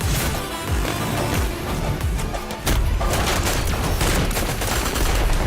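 Gunfire from a violent action movie trailer: rapid bursts of shots and sharp cracks over a dense, loud score, intensifying into a heavier barrage partway through.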